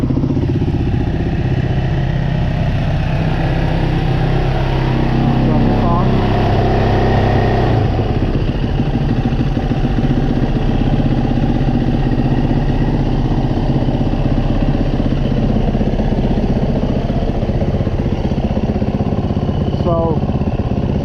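Yamaha dirt bike engine idling as it warms up in snow, a steady loud close rumble with mechanical clatter throughout, with no clear talk over it.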